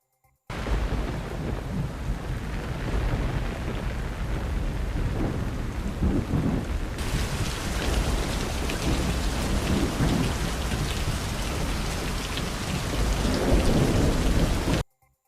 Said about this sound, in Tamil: சுமார் 2 மணி நேரத்திற்கு மேலாக இடி மின்னலுடன் கூடிய மழை பெய்தது.